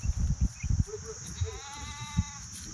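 A herd of Kathewadi goats gives scattered bleats, some thin and wavering, over a field ambience with a constant high hiss and low thumps and shuffling nearby.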